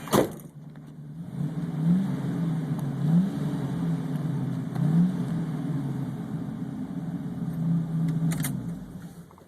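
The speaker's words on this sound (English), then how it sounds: "Give it a nice little rev here" A 1973 Ford Mustang 351C-2V V8 engine idles with a steady low growl, rising briefly a few times in short revs, close and fairly loud, with no voices.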